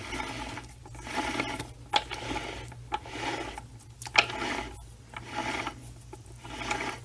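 A replacement gear in a Mini Getrag 5-speed transmission whirs and grinds in a steady repeating cycle of raspy, ratcheting pulses, fairly close, over a constant low hum.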